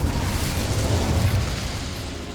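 An Incendio fire spell cast in the video game Hogwarts Legacy, a loud, steady roaring whoosh of flame that fills the moment without pause, with no talking.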